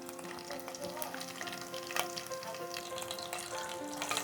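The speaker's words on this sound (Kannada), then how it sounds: "ಒಂದು ಹತ್ತು ಸೆಕೆಂಡು ನೀಟಾಗಿ ಈ ರೀತಿ ಫ್ರೈ ಆಗಲಿ" Cumin seeds and chopped green chillies fry in hot oil for a North Karnataka style javali kayi palya, giving a steady, soft sizzle with faint stirring and scraping in the pan and no talking.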